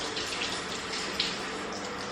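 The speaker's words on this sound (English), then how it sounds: "So let's just wash our hands." Tap water runs steadily into a sink as hands are washed in a home kitchen before baking, a constant close hiss with faint splashing changes and no talking.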